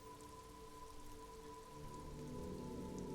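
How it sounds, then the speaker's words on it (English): Steady rain falls in the video game Disco Elysium, a soft, even hiss of drops on surfaces that grows slightly fuller toward the end, heard alone under a faint constant hum. "It's raining again."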